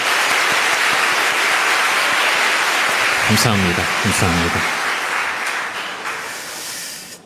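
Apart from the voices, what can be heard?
church congregation applauding teachers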